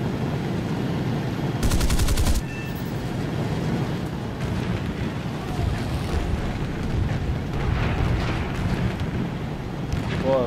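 Aircraft guns firing from an F9F-5 Panther jet fighter in a video game: a short, loud rapid burst of cannon fire over a constant rushing engine and wind roar, with fainter bursts later.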